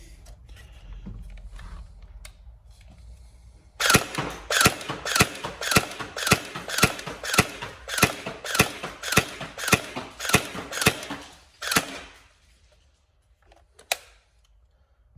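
A Tokyo Marui SGR12 electric airsoft shotgun test-fired in a rapid run of about fifteen sharp mechanical clacks, evenly spaced and close, followed by a short pause and one last shot, with no talking.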